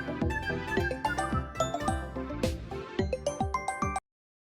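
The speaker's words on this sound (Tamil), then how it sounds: "ஃபோன் அடிக்குது" A phone rings with a bright, tinkling melodic ringtone, a busy run of repeated chime-like notes that plays loud and close for about four seconds and then cuts off abruptly.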